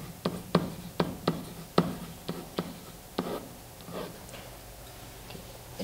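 A pen or marker writing out a coordinate, a close series of sharp taps and strokes in an uneven rhythm that thins out toward the end, with no talking.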